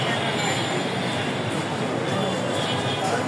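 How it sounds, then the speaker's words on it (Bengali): A Dhaka metro rail train runs past Farmgate, heard from an overbridge as a continuous, dense rushing roar with faint wheel squeal, blended into constant city noise. "ঢাকা মেট্রো রেল চলমান।"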